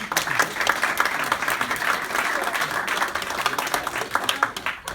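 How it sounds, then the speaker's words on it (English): An audience at a school board meeting honoring a high school teacher breaks into sustained applause, steady crowd clapping with a few voices faintly underneath. "give him some applause."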